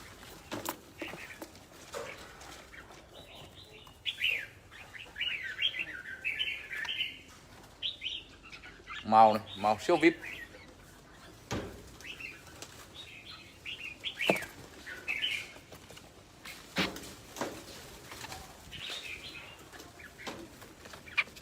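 Birds chirp and tweet in quick, repeated bursts at moderate distance, with occasional wing flaps, while someone talks intermittently over them.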